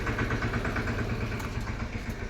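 Tractor engine running in a farm setting, a steady pulsing diesel idle with a regular low throb, fairly near and unbroken, with no voices over it.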